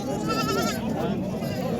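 Goats bleat at a busy livestock bazaar, wavering cries rising over a dense crowd murmur and bargaining voices nearby.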